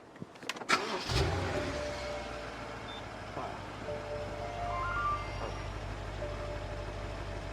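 A used 2009 Japanese car with 88,286 km cranks briefly and catches, then settles into a steady low idle rumble that carries on to the end, with faint background sounds over it.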